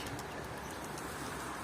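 Soft cooing of Turkish tumbler pigeons over a steady low outdoor hum, faint and somewhat distant, with no voices.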